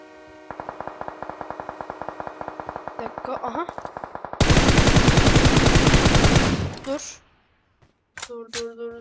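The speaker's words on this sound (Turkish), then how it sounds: "M4 ile sıkmayı deniyorum şu an." Rapid M4 assault rifle fire in PUBG Mobile, loud and close: a steady stream of evenly spaced shots for several seconds, then a denser, louder burst of gunfire before it cuts off, with a few short game sounds at the end.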